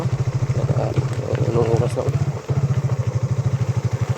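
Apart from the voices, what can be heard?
motorcycle riding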